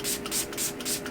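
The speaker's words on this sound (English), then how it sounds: "I am going to spray my face with this Milani Make It Last setting spray." Milani Make It Last setting spray misted onto a face in about four quick, close hissing spritzes in an even rhythm, with no talking.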